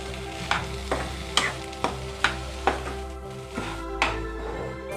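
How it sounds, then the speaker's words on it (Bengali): A spoon scraping and stirring potato filling with coriander and salt in a pan, giving steady rhythmic strokes roughly every half second, close and moderately loud over a low background hum. "এবারে জিনিসটাকে ভালো করে আমরা মিশিয়ে নিচ্ছি"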